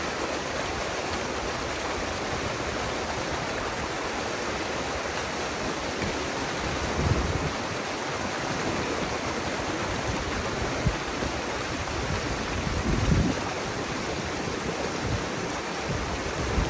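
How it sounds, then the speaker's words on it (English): Loud, steady roar of rushing water at a large beaver dam, a dense continuous wash of noise that stays even throughout. "water is so powerful here."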